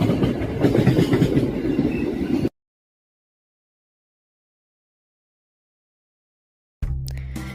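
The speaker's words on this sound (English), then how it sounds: "Amtrak Blue Water is our first train which arrives at Durand Union Station." An Amtrak Blue Water passenger train rumbles by at Durand Union Station, Michigan, with a steady clattering roar, then the sound drops out completely before the loud rolling noise returns briefly.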